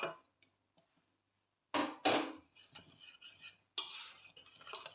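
A spoon stirs vanilla and margarine in a pot for a cake cream, with quiet metallic scrapes and clinks. They come in short, irregular bursts separated by near-silent pauses, close by.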